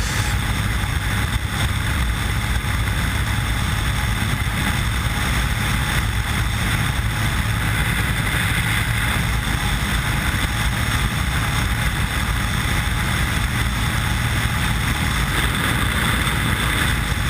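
Loud, constant roar of wind buffeting a helmet while riding a Honda NC700X motorcycle at around 100 on an uphill road, a dense rushing noise that holds steady and fills the whole stretch.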